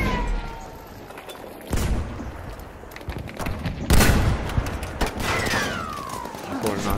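Gunfire and artillery in Battlefield V: sporadic shots and heavy booms, with a loud burst near the middle over a steady battle din, while a voice talks throughout.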